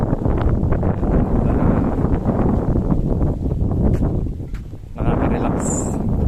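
Wind buffets a microphone on an open hilltop in a steady, close, rushing roar, dipping briefly before gusting again.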